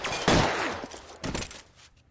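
A burst of loud, close gunfire from an L.A. Noire shootout, two heavy volleys of shots with a brief gap between them, fading out at the end.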